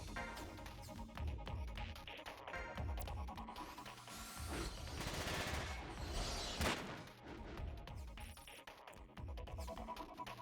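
Shotgun blasts and machine gun bursts from the video game Front Mission 5, a dense run of sharp reports and rattling volleys with a few heavier booms, loud and continuous with no talking.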